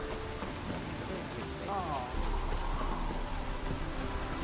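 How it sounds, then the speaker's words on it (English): Steady rain patters down over a low background hum in the video game The Witcher 3, while a voice speaks briefly partway through. "Looked like it would rain, and here it is."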